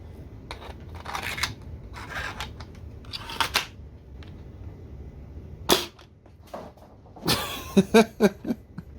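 A toy foam blaster pistol fires 50 caliber foam balls, giving several sharp snapping pops spread irregularly across the clip, the last ones followed by a quick rattling cluster of clicks, close and fairly loud, with no talking.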